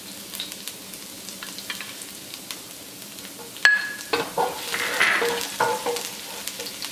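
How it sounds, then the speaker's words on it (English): Garlic frying in hot oil in a pan for stir-fried spicy pickled green mustard: a steady crackling sizzle swells after a sharp clink, with scraping stirs and utensil taps close by. "you're gonna fry this until the garlic turns golden brown"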